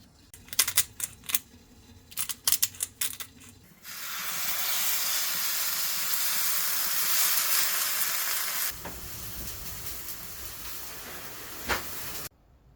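Two thick fillet steaks searing in a hot pan, a steady loud sizzle and hiss that holds for several seconds and then eases, preceded by a few sharp clicks and taps.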